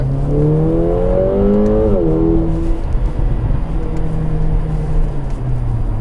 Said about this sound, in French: Là, je te l'ai mis en Sport Plus, tu vois la différence au niveau sonorité.